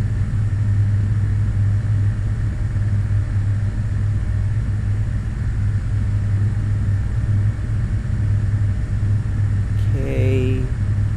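A small aircraft's engine in Flight Simulator X runs up steadily for takeoff with the throttle advanced slowly, a constant loud droning hum that holds throughout, with a brief chime near the end.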